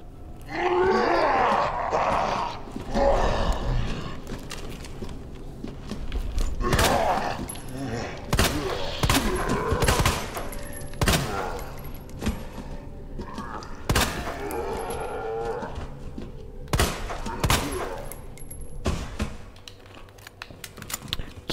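Gunfire in Resident Evil 2 from Leon's campaign: sharp, loud shots ring out one at a time at irregular gaps, several in a row, mixed with game sound effects and stretches of talk.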